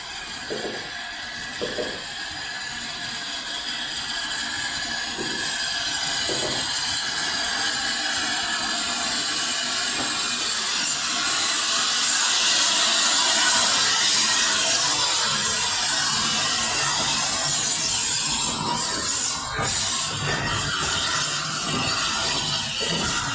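The 60103 Flying Scotsman steam locomotive hauls a long train of carriages past Orton Mere station on the Nene Valley Railway, a steady rumble and clatter of wheels that swells and lingers for over twenty seconds with no talk.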